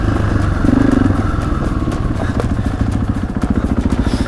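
A motorcycle engine held at a light throttle while the bike crosses water, a close, steady pulsing exhaust thrum with rhythmic putting and occasional clatter and splashy crackles.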